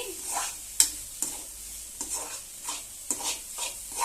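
A masala gravy for pasta is sautéed in a pan: a soft sizzle under repeated spatula strokes, with occasional sharper clinks against the metal, heard close and without speech.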